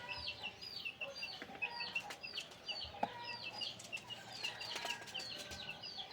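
Rhode Island chickens clucking in a coop, a busy overlapping chorus of soft clucks and chirps with occasional wing flaps, moderately close and fairly quiet.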